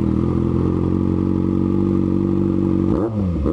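A Kawasaki Z800 with an aftermarket carbon exhaust and a Z750 with a loud megaphone exhaust roar close by at high, steady revs, then the engine note drops sharply near the end.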